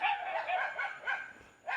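Several dogs at a neighbouring house bark and yip in short repeated bursts, moderately near, with a brief pause before a final bark; no talking over them.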